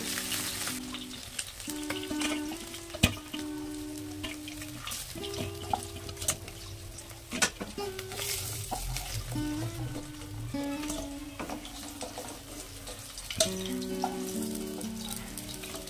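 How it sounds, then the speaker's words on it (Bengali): Snakehead fish frying in oil crackles and sizzles in a soft, steady bed of small pops, with a tonal melody playing along underneath throughout. "মাছগুলো লাল লাল করে ভেজে নিয়েছি, এবার এগুলোকে আমরা তুলে নেব।"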